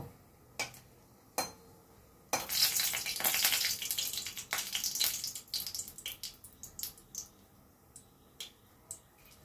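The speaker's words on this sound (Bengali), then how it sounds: "তেলের ওপর শুকনো লঙ্কাগুলো আগে আমি ফোড়ন দেব।" Dried red chillies dropped into hot white oil give a sudden crackling sizzle that swells loud, then breaks into sparse pops and sputters as it settles; a few light clicks come before it.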